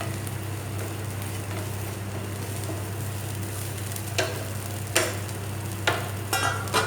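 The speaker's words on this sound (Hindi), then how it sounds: "लेकिन तुरंत उन्हें जल्दी चलाएंगे, नहीं तो" Bread pizza topping stirred quickly in a hot pan under a steady sizzle, with clicks and scrapes that grow louder and more frequent toward the end. No one talks.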